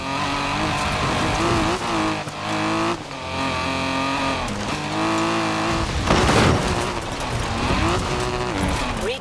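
A car drifting in Forza Horizon 4, its engine revving loudly with rising and falling pitch as it slides through turns, tires squealing in the middle.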